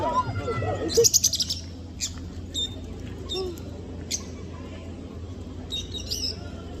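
Small parrots in an aviary chirp in short, sharp bursts and scattered calls, close by, with faint background voices at the start.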